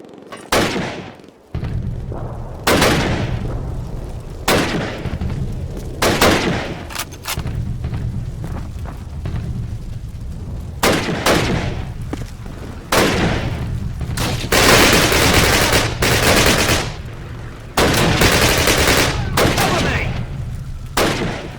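Heavy gunfire and machine-gun bursts in the Call of Duty video game, with loud bangs and rapid volleys that come in repeated waves and fill most of the stretch, near and intense.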